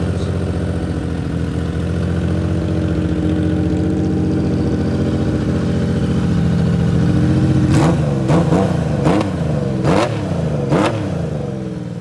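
A Honda CBX1000 motorcycle engine idles steadily, running off the last fuel after the fuel valve is shut off. The close, even drone continues throughout, with a few sharp bursts near the end.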